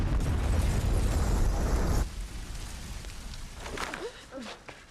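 A large explosion in a film: a loud, deep booming roar for about two seconds, followed by a fading rumble and scattered debris-like crackles and whooshes.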